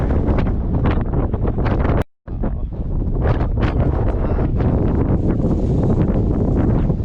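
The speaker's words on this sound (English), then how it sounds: "It is windy up here." Strong wind at a high point in Big Bend National Park buffets the microphone with loud, steady roaring rumble, cutting out briefly once before gusting on continuously.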